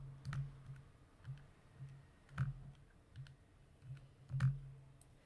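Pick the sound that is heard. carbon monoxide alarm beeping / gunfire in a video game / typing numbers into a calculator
typing numbers into a calculator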